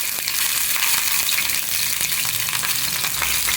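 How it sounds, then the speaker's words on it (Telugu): Green chillies frying in hot oil give a steady, close, even sizzle with faint stirring scrapes and no voices. "కొంచెం నూనె వేసుకొని పచ్చిమిరపకాయలు మంచిగా వేయించుకోవాలి నూనెలో"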